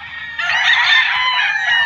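A gamefowl stag rooster crows once nearby, a loud drawn-out call after a brief lead-in, standing clear over a quiet background.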